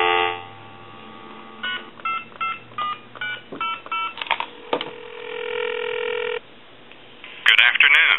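Touch-tone DTMF dialing on a repaired Trimline telephone calling a time and temperature number: a dial tone, then about ten evenly spaced beeps, a ringback tone, and clicks as the line connects, loud and close.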